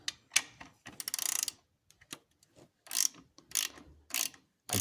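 Ratchet loosening a bolt on the alternator of a 2002 Corvette Z06, close and crisp: a fast burst of clicking pawl strokes, then a few isolated clicks and short repeated ratcheting bursts with brief pauses between.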